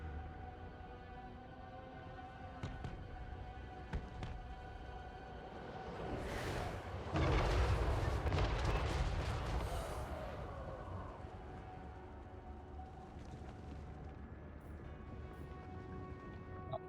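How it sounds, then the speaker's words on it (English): Cannon volley in Total War: Warhammer 3, a burst of booming artillery fire swelling midway through a dense battle soundscape with music and clamor, loud then settling back. "Cannons."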